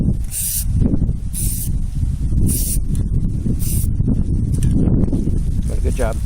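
Spray paint goes onto a vise in light coats, with four short, sharp hissing bursts at regular intervals, close by, while people talk throughout.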